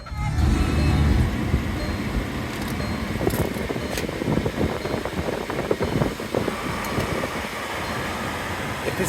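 A 2016 Volkswagen Jetta 1.8 Sport starts up and settles into a steady idle, a close, continuous engine hum with a brief louder burst near the start and a few faint clicks.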